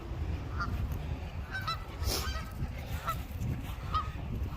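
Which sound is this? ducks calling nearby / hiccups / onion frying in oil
ducks calling nearby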